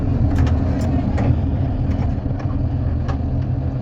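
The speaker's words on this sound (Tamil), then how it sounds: "அண்ணன் அன்புமணி அவர்கள் இப்பொழுது இந்த வண்டியை ஆகா தேர்ட்டில ஸ்டார்ட் ஆயிடுச்சு" A lifeboat engine aboard a ship runs with a loud, steady, close-up diesel rumble that holds without a break, with faint clatter on top.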